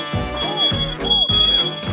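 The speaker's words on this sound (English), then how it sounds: "And the fire alarm." A kitchen fire alarm shrieks in steady repeating cycles with a warbling tone over a throbbing low hum, loud and close, as cooking sticks burn.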